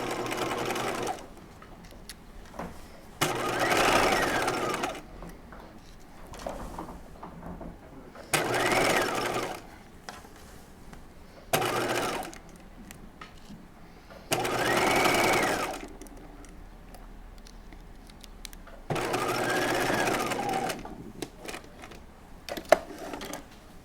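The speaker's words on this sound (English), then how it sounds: "we're going to baste these seam allowances together at 1/2 inch" A domestic sewing machine bastes seam allowances together at half an inch on a halter top, running in six separate bursts of a few seconds each, close and fairly loud, with quiet pauses between.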